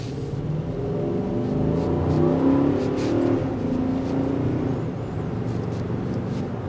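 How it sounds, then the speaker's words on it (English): A 2024 Infiniti QX80 pulls away from a red light in city traffic, its engine note rising smoothly and steadily as it accelerates, heard from inside the cabin with a muted, well-insulated character before easing off near the end. "to show you the difference in performance at a stop point with the QX80 at a red light."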